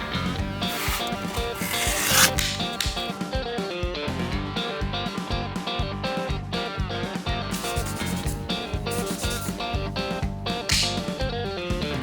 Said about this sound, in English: on to the hand sanding